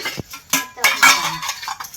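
Metal plates and utensils clatter and clink in several quick bursts, close and fairly loud, with no talking.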